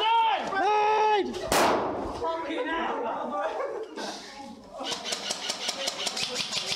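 A video game grenade goes off as a sudden loud blast. Heavy game noise and gunfire surround it, and a synthetic voice and players call out around the explosion.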